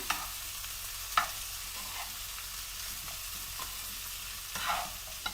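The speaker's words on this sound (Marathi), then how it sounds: "बारीक गॅस करा आणि छान ह्याला असं सगळ्या बाजूनी ढवळून घ्या" Cauliflower dry sabzi frying in a pan over a low flame, stirred from all sides: a quiet, even sizzle with occasional soft clicks and scrapes of the spoon, heard up close without speech.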